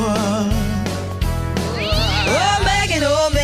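Cat-like meows slide up and down over a steady, loud musical beat in a comedic radio song parody, repeating several times through the passage.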